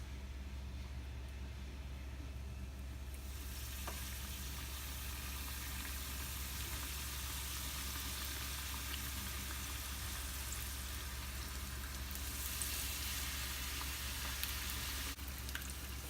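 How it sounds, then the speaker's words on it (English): Chicken cheese samosas frying in hot oil over a medium flame, a steady dense sizzle that holds throughout and swells slightly near the end, close but fairly quiet. "Fry it on medium flame."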